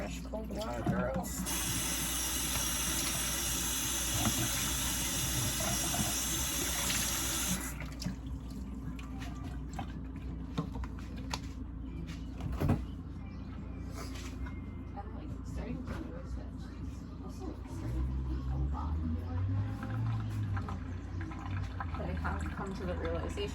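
Water runs from a tap and fills a dog's bowl with a steady rushing splash for several seconds, then stops, leaving household background noise and a voice speaking nearby.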